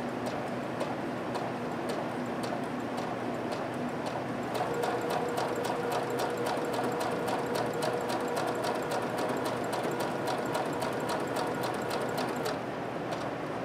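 Electric sewing machine stitching under foot-pedal control, a steady fast mechanical ticking that speeds up partway through, running continuously and close by with no talk.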